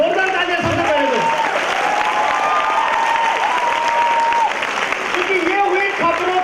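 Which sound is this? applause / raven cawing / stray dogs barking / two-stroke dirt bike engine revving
applause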